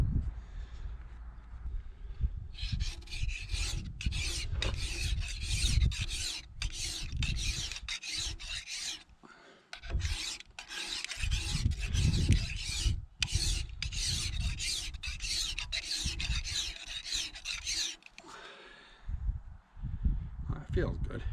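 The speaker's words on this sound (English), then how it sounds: "I only was running the file on the front about 3/16" A hand file sharpens planer blades in quick, raspy strokes, coming in close bursts with brief gaps and a low rumble underneath.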